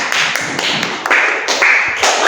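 A classroom of students claps for a presenting group, a steady dense patter of many hands with no cheering, close and fairly loud throughout.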